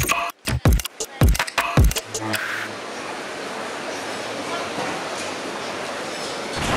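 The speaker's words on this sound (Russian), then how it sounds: "Я еду в ленинградской электричке." A Leningrad suburban electric train rides along, heard from inside as a few clattering knocks at first and then a steady, moderately loud rumbling roar of the carriage in motion.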